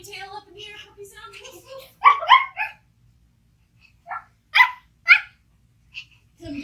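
During family yoga, people's voices imitate a puppy barking, a handful of high yippy bark-like calls in short bursts with pauses between, close and fairly loud, following some talk.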